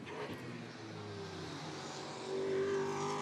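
A GT4 race car accelerates through turn 12 at the Budapest circuit during a European Series race, its engine note rising and revving harder toward the end, heard at a moderate distance without talk.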